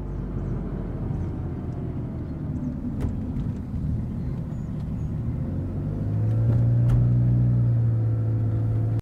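Car driving away, used as a stock effect: a steady low engine rumble that swells and grows louder toward the end, alone with no talk.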